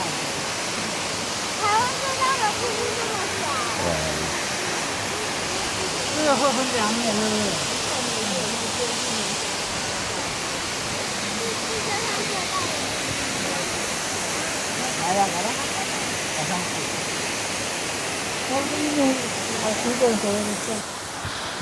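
Shifen waterfall in Pingxi District, Taiwan, with a broad steady roar of rushing water running the whole time, while voices talk faintly over it.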